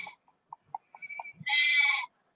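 Sheep in The Haunting of Castle Malloy give a single wavering bleat, preceded by soft scattered clicks and taps, close and fairly loud.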